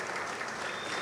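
Steady, even applause from an audience at a rights of nature tribunal on a fossil fuel-free Amazon, a brief continuous wash of many hands clapping at moderate distance.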